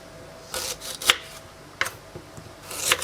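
Knife slicing through mature ginger on a cutting board while preparing a herbal shampoo, giving a few separate crisp cuts with short pauses between them, close and fairly quiet.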